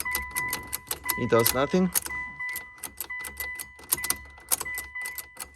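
Keys jangle and click as the ignition switch of a 2000–2007 Mitsubishi Lancer is turned with no engine crank following, while someone talks over the metallic rattles.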